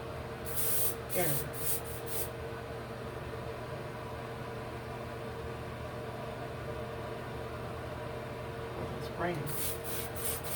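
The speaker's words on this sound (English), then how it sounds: "Spraying." Adhesive spray hissing onto a lace wig in two clusters of short bursts, one near the start and one near the end, close by over a steady hum with quiet rubbing sounds.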